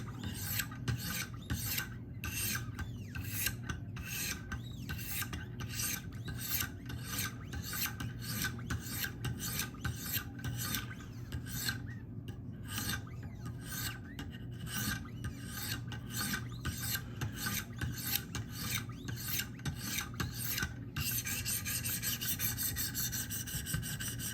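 Close, steady back-and-forth rasping of sharpening stones drawn along a Spyderco PM2 folding knife blade of Maxamet steel, clamped in a Wicked Edge guided sharpener for a light touch-up, with rhythmic strokes throughout and no talking.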